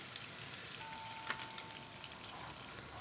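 Shredded kadayif pastry fries in melted butter in a pan, giving a steady, soft, close sizzle that holds evenly throughout, with a faint thin tone running across the middle and no voices.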